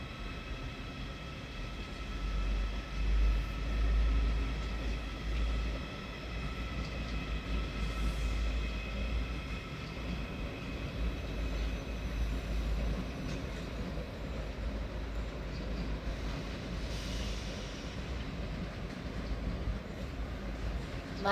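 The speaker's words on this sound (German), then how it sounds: "Ausfahrt eines ICE 4." An ICE 4 high-speed train pulls out of Munich main station with a steady low rumble and faint rolling noise inside the large station hall, and it stays even throughout.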